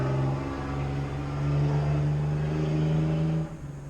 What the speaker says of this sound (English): we're going to hear a lot of motorcycles going by because it's bike week in Gettysburg